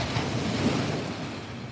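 Wind-driven chop breaking along the shore of Lake Wakatipu at Queenstown, New Zealand, a steady, loud wash of surf mixed with gusty wind noise and no voices.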